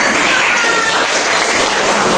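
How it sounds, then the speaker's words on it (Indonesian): A classroom of students claps together in a dense, steady wash of applause, loud and close, holding without a break for its brief length. "Tepuk tangan untuk"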